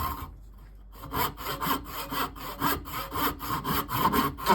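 A bandsaw slices through a wooden wedge meant for an old tomahawk head's new handle, starting after a brief quiet moment and then running as a close, steady rasping cut with a regular pulsing texture.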